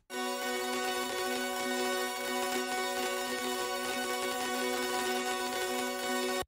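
Granular synth grains made with the Quanta plugin in an electronic remix, a dense, steady, bright shimmering texture of stacked tones that holds at an even level throughout, with no voices.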